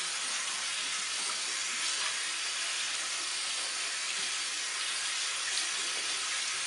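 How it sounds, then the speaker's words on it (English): A running tap washing chalk off the hands, a steady, fairly faint hiss of flowing water with no speech. "Wash all that chalk off your palms real good."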